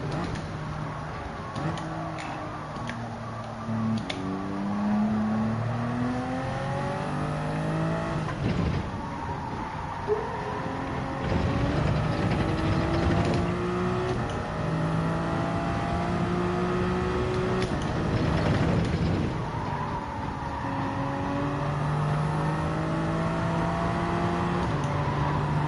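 A Toyota Supra race car in Gran Turismo 7 laps Spa on hard tyres, its engine revving up and dropping through repeated gear changes, loud and continuous for the whole stretch, with no voices.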